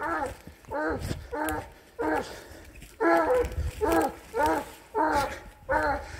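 Horus, a 13-month-old dog, gives a run of repeated whimpering barks in steady bursts, close and fairly loud, with a voice speaking softly in between.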